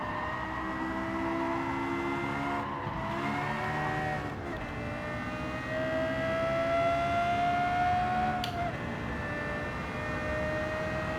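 Lexus LFA engine racing in Gran Turismo 7, a steady high-pitched V10 wail holding and climbing through the gears with brief dips at shifts, loud and continuous with no talk.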